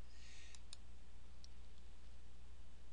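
A computer mouse gives a few short, faint clicks, two in quick succession and then a lone one, over a steady electrical hum with no voices.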